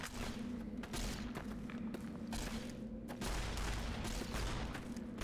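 Gunfire in the Fallout: New Vegas video game, with a rapid series of sharp shots and thuds in uneven bursts, somewhat distant and muffled over a steady background hum.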